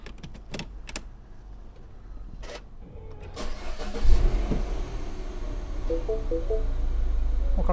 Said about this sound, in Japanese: ちょっとエンジンかけてみましょうか。